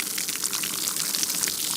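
Water poured out of a plastic milk jug that was shot through at a pistol range, a steady close splashing gush lasting under two seconds with no talking.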